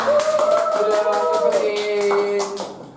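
Clapping from a group of people runs through the clip, a steady patter of hands at close range over a sustained musical tone, tapering off toward the end.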